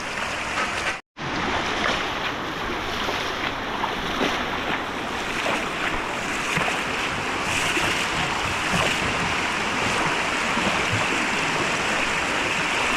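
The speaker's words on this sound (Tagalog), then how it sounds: "Ang lakas ng tubig, ha." Strong floodwater rushing after an overnight rain, a loud, continuous roaring wash close by with wind buffeting the microphone, unbroken apart from a brief cut near the start.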